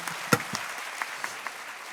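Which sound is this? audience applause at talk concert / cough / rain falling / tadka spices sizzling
audience applause at talk concert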